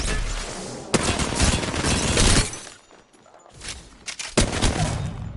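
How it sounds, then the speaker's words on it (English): Sustained automatic gunfire in the shooter video game Apex Legends, with loud, dense bursts of shots, a brief lull in the middle, then more rapid firing, all close and without talk. "Shooting an enemy from it."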